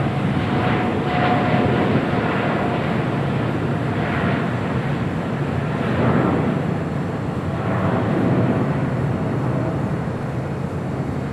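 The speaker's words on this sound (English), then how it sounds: "doing the Turkish Dreamliner, heading back to Istanbul, now rolling down 25 right" A Turkish Airlines Boeing 787 Dreamliner rolls for takeoff on runway 25 right at LAX, a steady broad jet-engine roar that holds loud and constant throughout with slight swells, heard from a distance with no talk.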